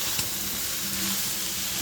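Fried rice seasoned with salt sizzles steadily in a pan, a dense continuous frying hiss with a faint scrape of stirring, no voices.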